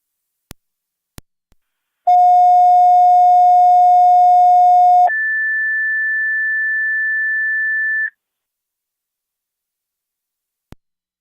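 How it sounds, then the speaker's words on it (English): Fire dispatch alert tones for an EMS call: a few sharp radio clicks, then a steady lower tone held about three seconds followed by a higher tone held about three seconds, loud and clean over scanner static, with a final click. "third set of tones for your EMS call"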